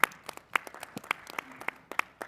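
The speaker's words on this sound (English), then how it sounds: "So we give a round of applause to that" Scattered applause from a small committee meeting audience, a few hands clapping in sparse, uneven bursts at moderate distance, brief and fairly quiet.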